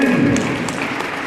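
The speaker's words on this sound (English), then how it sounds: "Round of applause for you." A brief burst of dense applause from an audience at a crime indaba meeting in the Northern Cape, loud and steady for about a second.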